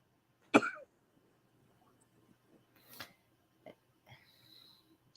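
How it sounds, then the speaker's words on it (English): One sharp, loud cough rings out in a quiet room, followed by a few faint rustles. "Did you get that cough looked at"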